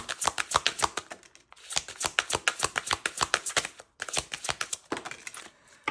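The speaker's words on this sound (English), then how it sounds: "I'm actually just going to divide this deck for a minute so that I can shuffle it properly" Rapid riffle-shuffling of playing cards, a fast flutter of crisp snaps in bursts separated by brief pauses, close up with no talking.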